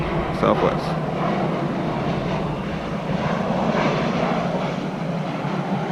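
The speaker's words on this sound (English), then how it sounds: "this airplane is coming in for a landing. It's loud as shit." A Southwest airliner coming in to land passes overhead with a loud, steady jet roar that fills the whole span, while people talk underneath it.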